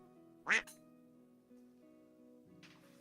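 A single loud duck quack sound effect rings out in a live selling chat stream, followed by quiet background and a fainter second burst near the end.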